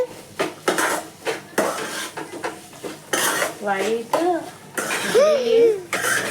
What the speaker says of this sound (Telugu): కొన్ని పొటాటోస్ వేసుకోండి. బాగా కలుపుకోండి.